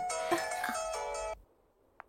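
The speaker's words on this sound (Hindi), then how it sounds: "लगता है तेरे पिताजी का फोन है।" A mobile phone ringtone plays a bright electronic melody for about a second and a half, loud and close, then cuts off into near silence before a short tone.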